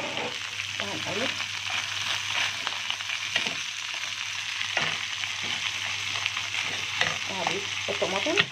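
Onions and green peppers are stirred as they fry in a pan, with steady sizzling broken by repeated scraping and clattering strokes, close and fairly loud.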